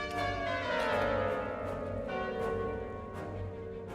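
A relic bell in Slay the Spire rings out in a sustained, resonant chime, its tone lingering and slowly fading over several seconds with no voices.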